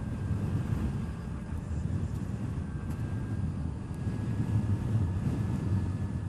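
Zero S electric motorcycle ridden on the road, a steady low rumble of wind and road noise with a faint motor whine running throughout, continuous and fairly even.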